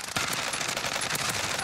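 Rapid automatic gunfire in the Call of Duty Warzone video game rattles continuously in a dense burst, moderately quiet and steady throughout.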